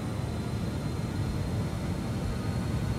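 A turbojet aircraft taking off in Microsoft Flight Simulator gives a steady, loud broadband roar with a deep rumbling low end, unchanging throughout and heard alone.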